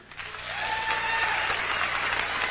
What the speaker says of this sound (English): Let me hear you clap, truthfully.